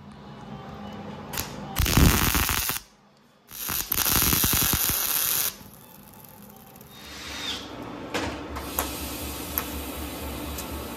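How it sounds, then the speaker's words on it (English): Steel bracket for a Fatman independent front suspension on a 1950 Fargo being tack welded: bursts of crackling, sizzling arc noise come in two strong runs, with quieter workshop noise between and after them. "So we'll tack it up here and then fully weld it up on the bench."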